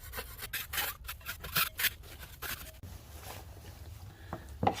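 A tool scrapes dried, thick joint compound ridges off a patched drywall wall in quick, soft rasping strokes, close and fairly quiet, with irregular bursts and short pauses between passes.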